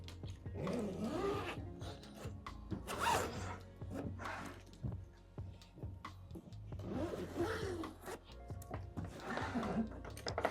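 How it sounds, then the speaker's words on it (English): The two large zippers on a TravelPro Maxlite Air V2 25-inch suitcase are pulled open, producing repeated rasping zips in bursts with some handling rustle and faint talk. "Access is done by the 2 large zippers."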